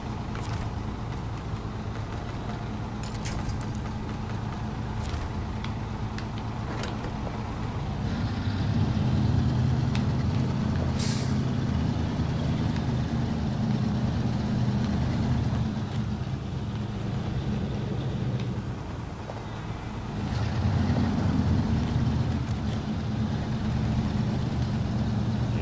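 A Fleet Star truck in SnowRunner grinds uphill, its deep engine drone steady and loud throughout, swelling in two stretches as the load strains, with no voices over it.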